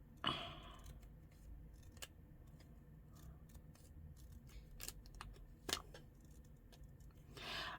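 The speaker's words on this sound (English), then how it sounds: "I just cut around this." Scissors cutting around a printed design on a paper gift bag, a few faint separate snips spread over a quiet room.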